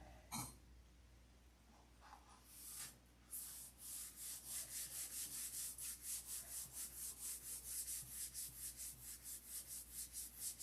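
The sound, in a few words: sanding by hand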